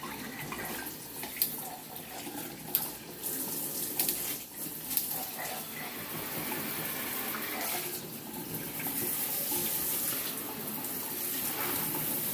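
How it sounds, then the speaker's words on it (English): Hot water runs steadily from a shower onto a rust-stained shower floor, a continuous close splashing gush with a few brief louder spatters, heard alone with no talking. "I'm going to wet this down a little bit with really hot water so it loosens up all that dirt"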